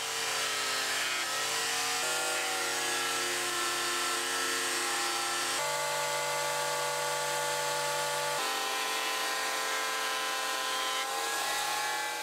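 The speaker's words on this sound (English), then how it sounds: "So I've got some scraps of oak that I'm going to get planed down" Electric planer or thicknesser running steadily on scraps of oak, a loud continuous whine with shifting pitch as each piece passes through, no voices.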